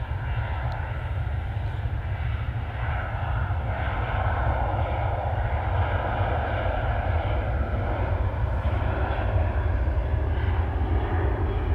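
Jet2's 37-year-old Boeing 757 airliner arriving at East Midlands Airport, a sustained loud engine roar with a deep low rumble and no pause throughout.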